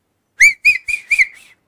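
A sharp, high whistle sounds close and loud in five quick bursts, the first few strong and the last one fading off.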